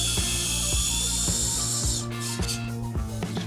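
Power driver sinking 4-inch fasteners into an aluminum stair railing post beneath the stair tread, a steady motor whir broken by repeated sharp clicking ratchet pulses, close and fairly loud.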